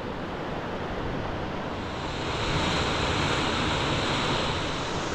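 Steady, loud roar of sea surf from an incoming tide breaking at the foot of a sea cliff, broadband and continuous with no pauses, with light wind buffeting the microphone.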